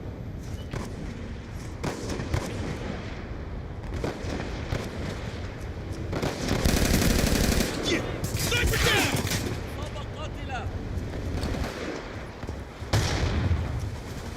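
Gunfire in Call of Duty WWII multiplayer, dense bursts of shots and rattling weapon fire crackling throughout, loudest near the middle and end, with a voice talking over the game noise.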